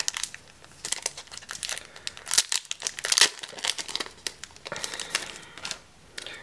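Crinkly plastic wrapping being torn and pulled open on a pack of photo cards from a K-pop season's greetings set, a close run of dry crackles and sharp snaps with no talking.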